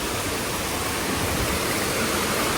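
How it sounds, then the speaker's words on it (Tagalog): The main waterfall at Kambal Elisa 88 Falls in Laguna, a loud, constant roar of crashing water filling the whole space, steady and unbroken, with no voices. "Ayan yung pinakang falls nila."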